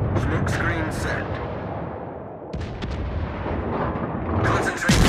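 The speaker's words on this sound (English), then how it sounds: "Concentrate fire on the enemy warship." Naval artillery fire in the World of Warships video game, heavy repeated gun blasts and booms rolling over a dense battle din, with game voice callouts heard over the barrage.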